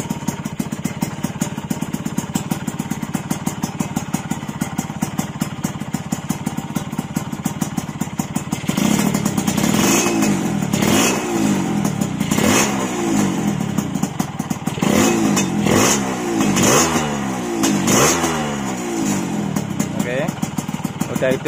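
Yamaha RX King two-stroke motorcycle with an added ACG starter, running with a buzzing, rattling idle, then revved in repeated rising bursts, close and loud, with someone talking over it.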